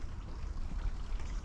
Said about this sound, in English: There is a nice little creek over here